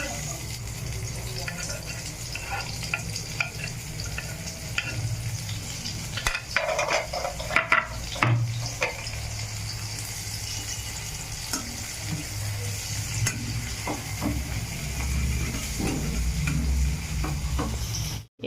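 Onions frying in hot oil in a home kitchen pan with green chilies, stirred steadily so a continuous sizzle runs throughout with intermittent scraping and clattering strokes, no talk.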